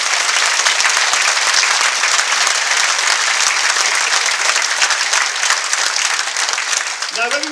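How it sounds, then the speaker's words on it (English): A cruise ship audience applauds singer Becky after her performance, with loud, dense, sustained clapping throughout. A voice comes in briefly at the very end. "give her another round of applause"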